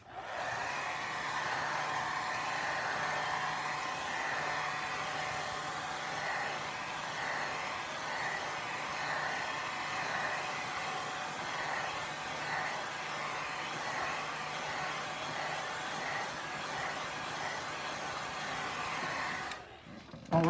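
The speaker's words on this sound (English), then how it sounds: "you can pull out the hair dryer and give it a quick hair dry." A hair dryer blows steadily for about twenty seconds to dry a watercolor painting, a constant whooshing hum, close and alone, cutting off at the end.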